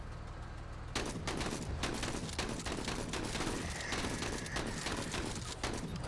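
Gunfire in the turn-based tactical game Menace: after a quiet opening, a dense burst of rapid shots and impacts runs continuously and loudly, with no talking.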